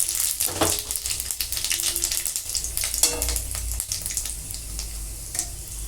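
Panch phoron spice mix sizzles loudly in hot oil, a dense, continuous crackling hiss full of rapid pops that eases slightly toward the end.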